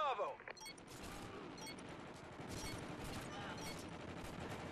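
Gunfire crackles through a video game capture-point match, with dense bursts of shots going off under steady game noise and some voice chat.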